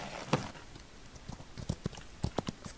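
Horse hooves clip-clopping in the Western video game Outlaws of the Old West, a string of soft, uneven hoof knocks at a walking pace, fairly close over a quiet background.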